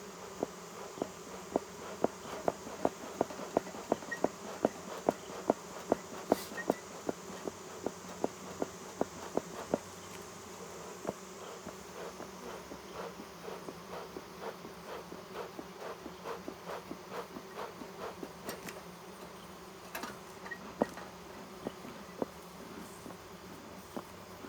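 Honey bees buzz steadily throughout a queenless hive inspection, with a dense continuous hum and many sharp clicks and taps of hive tools and frames close by.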